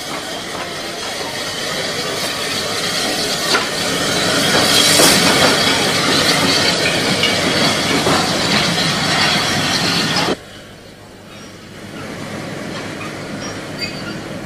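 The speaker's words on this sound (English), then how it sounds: "O62 number 5 rolls into the port station." Small 062 compound tank locomotive of the Panderola line rolls into a port station, a loud steady rumble of wheels and carriages with hissing, then an abrupt drop to quieter rolling noise near the end.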